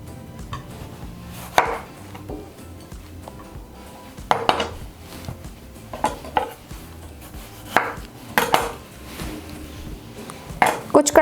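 A knife chops tomatoes into medium pieces on a board while preparing mutton karahi, giving sharp, irregular thuds and knocks spaced a second or two apart, up close with no talk.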